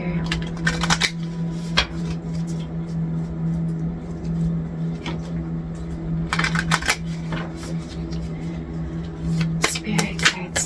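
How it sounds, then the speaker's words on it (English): Affirmation cards shuffled by hand during a tarot-style reading, giving repeated soft riffling, flicking bursts close to the mic over a steady low hum, with quiet gaps between the shuffles. "Let's grab your affirmation card here."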